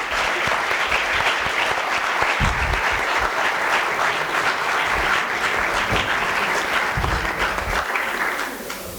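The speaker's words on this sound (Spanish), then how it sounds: "Un fuerte aplauso para ellos y mucha suerte." Sustained, dense applause from an audience at a 3 Minute Thesis contest for the participants, loud and steady for about nine seconds before easing slightly at the end.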